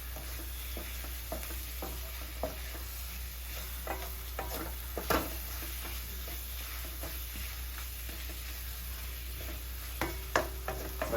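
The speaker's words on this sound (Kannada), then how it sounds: "ಇದನ್ನು ಹೀಗೆ ಲಾಸ್ಟ್ವರೆಗೂ ಸ್ವಲ್ಪ ಚೆನ್ನಾಗಿ ಫ್ರೈ ಮಾಡ್ಕೊಳ್ಳಿ." Chicken sukka fries and is stirred in a pan, a steady sizzle broken by frequent scraping and clinking strokes of a spatula, close and alone without voices.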